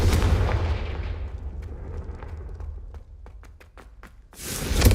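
A fire spell cast in a Harry Potter video game goes off as a loud, booming blast that decays over several seconds into scattered sharp crackles, and a second burst swells at the end.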